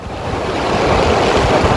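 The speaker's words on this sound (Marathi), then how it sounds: "कोयना धरणाचे सहा दरवाजे उघडले गेले आणि आता कोयनेतून दहा हजार क्युसेकनं पाण्याचा विसर्ग सुरू करण्यात आलेला आहे" Water discharged through the six opened gates of Koyna Dam, a loud, steady roaring rush that swells slightly and fills the whole clip with broad noise, with no voices.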